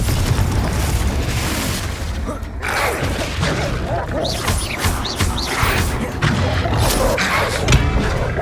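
Spell-combat explosions from Confringo blasts in the Hogwarts Legacy video game: loud, dense booms and crashing impacts rolling continuously, with a brief lull before more blasts and cracking debris.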